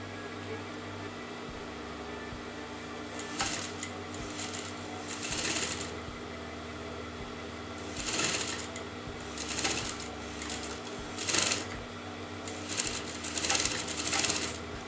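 A sewing machine runs basting and straight stitches on a frock with a sweetheart neckline, in several short whirring bursts separated by pauses over a low steady room hum.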